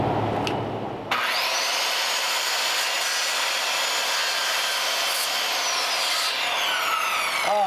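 Sanding a replacement wood piece for the body of a Schroll 32 coupe, a steady abrasive power-tool whir running continuously for several seconds, close and loud, after a brief click at the start, no talking.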